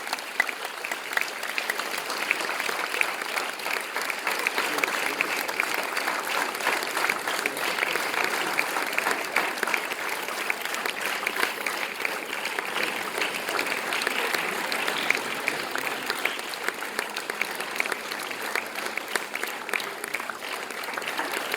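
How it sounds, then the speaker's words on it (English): Sustained, dense applause from a large audience for a group of volunteers taking a bow on stage at a girls' awards ceremony, steady and loud throughout with no voices over it. "I would like to give them a thundering round of applause."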